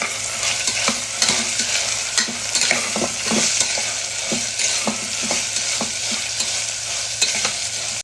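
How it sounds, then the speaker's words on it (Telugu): Tomato, capsicum, beans and broccoli fry in a pan for vegetable biryani, a steady close sizzle with repeated scraping and stirring clicks of a spoon throughout, no voices. "టమాటో క్యాప్సికము బీన్స్ ఏదైనా మీకు ఇష్టమైంది బ్రాక్లీ ఇవి కూడా కొంచెం ఫ్రై చేసుకుందాం"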